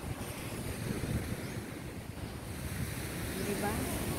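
Sea waves wash onto the beach in front of a hotel, a steady roar of surf blended with gusty wind noise on the microphone that runs throughout.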